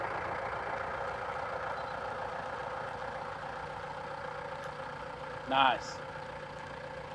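A 1981 Dodge D150 pickup fitted with a 4BT Cummins diesel idles steadily and close by, a continuous rumble that runs the whole time under a brief spoken comment.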